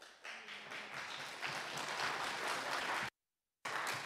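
Councillors applaud at a full council meeting with a sustained burst of clapping from many hands in a chamber, loud and continuous, briefly cut to silence before it resumes.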